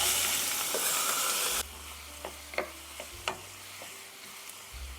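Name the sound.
onions frying in oil in a pan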